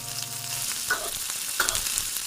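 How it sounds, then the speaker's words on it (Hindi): Tomato paste fries in oil for a Rajma Lobia curry, giving a close, steady sizzle with a few soft stirring scrapes and no talking. "टमाटर को भी ना अपने पेस्ट को अच्छी तरह से भूनना है,"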